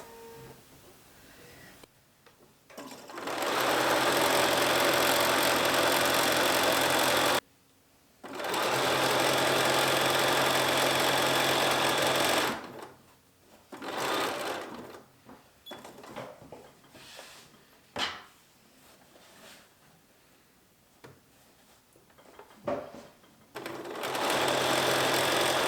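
Sewing machine stitching lace onto a vintage petticoat slip, close and loud in two long continuous runs, then short stop-start bursts of stitching separated by quiet pauses.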